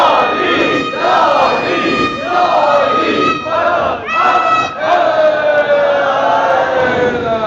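A large crowd at a Muharram majlis in Karachi chants slogans and salawat loudly in unison, voices rising in repeated swelling waves of shouted phrases that fill the space.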